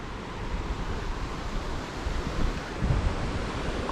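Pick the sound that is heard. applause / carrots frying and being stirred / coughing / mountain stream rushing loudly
mountain stream rushing loudly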